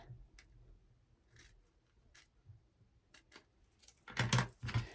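Scissors snip through leftover bias binding fabric while an embroidery hoop is being wrapped, a few quiet scattered cuts ending in a louder close burst of snips.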